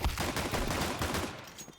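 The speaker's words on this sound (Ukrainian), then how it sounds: "Ой, хороший точний постріл." A rapid burst of gunfire in a Counter-Strike 2 match, several quick shots rattling in succession before trailing off.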